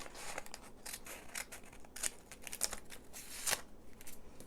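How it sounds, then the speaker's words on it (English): Scissors snipping across a recycled paper envelope to shape a flap for a Halloween treat pocket, a steady run of close, crisp cutting crunches and paper rustle with no voices. "we're just gonna cut across right there because we're making the flap on the back"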